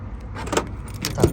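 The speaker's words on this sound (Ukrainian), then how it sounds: "Ось взяв ключі, два ключа даємо в комплекті." Keys jangle close by in someone's hand, a pair of keys for a 2013 Renault Trafic van, with a few quick metallic clinks over a low background hum.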